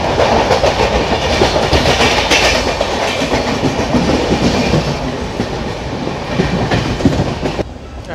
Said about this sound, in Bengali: এখন এই ট্রেন পুরো ডাউন গ্রেডিয়েন্টে দমদমের দিকে ঢুকবে